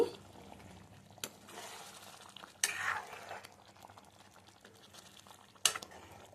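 Spices such as coriander, cumin powder and garam masala are stirred into an egg punugulu gravy curry, with soft scraping and clinking of a spoon against the pan and a few sharper bursts of stirring, quiet and close.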